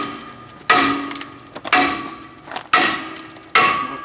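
Four heavy hammer blows strike a rusted brake rotor on a car hub to knock it loose, each a sharp close metallic crack with a ringing tail, spaced about a second apart with no talk.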